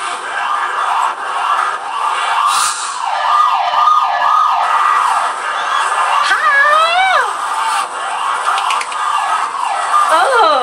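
A human beatboxer imitates a wailing emergency siren with his voice at a beatbox battle, rising and falling sweeps repeating over a loud, continuous crowd roar.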